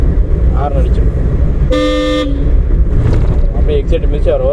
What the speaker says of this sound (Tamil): ஹார்ன் அடிச்சிருக்கோம்.